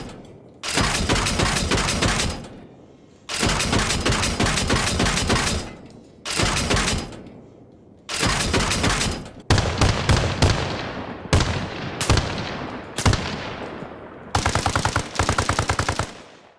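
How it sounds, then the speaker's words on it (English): Heavy automatic cannon fire from the main gun of an LAV-25 in the video game Arma Reforger: loud repeated bursts of rapid booming shots, several long strings and shorter volleys separated by brief pauses, close and alone. "for the main gun it hits like a cannon and it sounds like one too"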